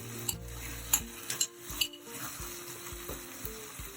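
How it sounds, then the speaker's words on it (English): Chopped tomatoes go into a pan of sautéed onions, setting off a burst of sizzling with a few clinks and knocks of a spoon against the pan, then a softer, steady frying hiss. "So it's time to add some tomatoes."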